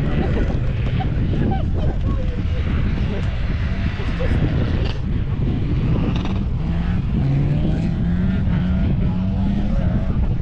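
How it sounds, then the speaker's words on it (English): Several cars grass drifting near the top of a hill, two Mazda MX-5s, a Mini, a BMW estate and a BMW coupe, their engines droning steadily with rising revs under wind, while a voice talks now and then. "The grass drifting's still on the go."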